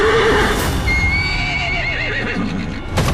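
A horse in Metal Gear Solid V: The Phantom Pain whinnies loudly up close, a long wavering neigh over faint game background, with a short thump at the end.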